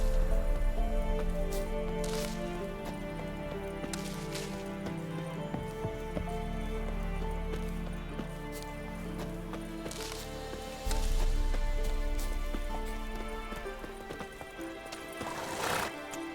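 In The Witcher 3, a horse gallops with steady clip-clop hoofbeats and lets out loud whinnies, all against the game's ambient soundscape.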